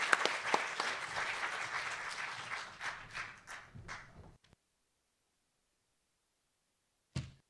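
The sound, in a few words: audience applause in a ballroom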